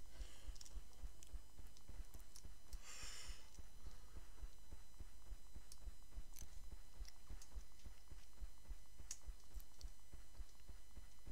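Horse hooves in the Champions of Regnum video game, a steady, regular clip-clop rhythm over a low hum, continuing alone without talk for the whole stretch.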